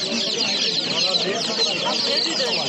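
Chickens cluck and squawk in a dense, steady chorus at the Nookat poultry market, with voices of people talking mixed into the busy crowd noise throughout.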